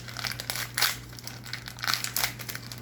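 A Pokémon Chilling Reign booster pack's foil wrapper is torn open by hand, giving close crinkling and crackling with several sharper tearing bursts over about three seconds. A faint steady low hum sits underneath.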